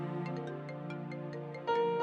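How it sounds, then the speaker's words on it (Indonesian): A melodic phone ringtone plays, a repeating chiming tune of bright tones, then a louder sustained note cuts in at the end. "Bentar, ada telepon."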